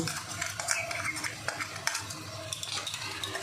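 A spoon stirs salt and chili powder into an egg and potato curry in a pan, soft scraping and clinking strokes repeating irregularly over a faint sizzle, close and quiet.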